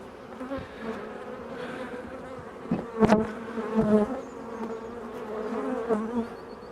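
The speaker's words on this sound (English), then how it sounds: "there's certainly a lot of bees on that frame there" A dense, steady hum of many honey bees buzzing close by at an open hive, with a few louder swells as individual insects pass near.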